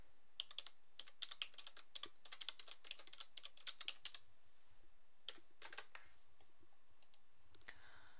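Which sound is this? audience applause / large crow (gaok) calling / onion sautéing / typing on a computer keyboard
typing on a computer keyboard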